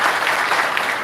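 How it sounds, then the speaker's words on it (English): Seated attendees at a Uganda gathering clap for district-level officials standing for recognition, a continuous, fairly loud burst of crowd applause with no pauses across the short span. "The rest of us who are seated, clap for them."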